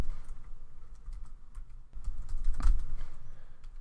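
Code being typed on a computer keyboard: a steady, close run of quick key clicks with brief pauses, and no talking.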